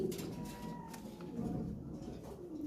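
White Bombay pigeons coo close by, a soft repeated throaty warble that rises and falls over a low background hum. No one speaks.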